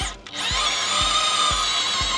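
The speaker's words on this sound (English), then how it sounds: "Like literally when I drill in, it is so hard to get in there that it slips sometimes." A power drill bores into hard-packed soil for planting, its motor whining steadily with a few repeated low thumps as the bit catches, alone and fairly quiet.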